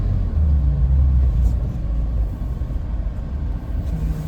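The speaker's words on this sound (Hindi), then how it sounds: "भाई अभी है ये द्वारका एक्सप्रेस वे पे" Steady traffic on the Dwarka Expressway in India, a loud continuous low rumble of passing cars and vehicles close by, with no talking.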